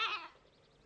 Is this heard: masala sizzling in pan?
no